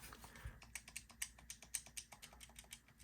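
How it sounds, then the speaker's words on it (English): Button presses on an Asus ROG Ally handheld, a run of light, soft, slightly mushy clicks in a fairly even quick rhythm, close and faint with nothing else around them. "It's a lighter, kind of mushier click, nonetheless a unique click."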